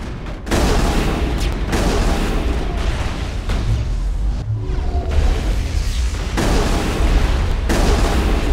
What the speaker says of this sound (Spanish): no me gusta que me tienen disparos